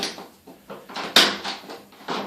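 A bathroom door knob is handled and pulled down to unlock, giving a series of short metallic clicks and rattles, close and distinct with no talking.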